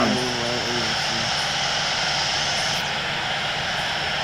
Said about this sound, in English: November 518 Delta Sierra is taking off runway 29, departing south.